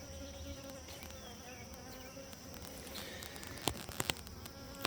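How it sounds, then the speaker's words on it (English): A dense, steady buzz of many honeybees from nucleus colonies hums continuously up close, with a few sharp taps and knocks near the end. "There's still plenty of bees in there."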